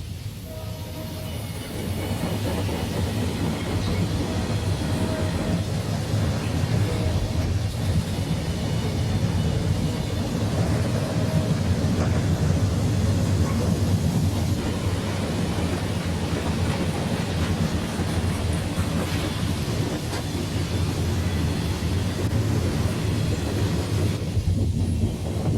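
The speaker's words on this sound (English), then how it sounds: "The local freight can be seen in the distance, working on the siding." Steady low rumble of a Conrail local freight train working a siding in the distance, a continuous rolling drone with faint clatter holding level for the whole stretch, no voices.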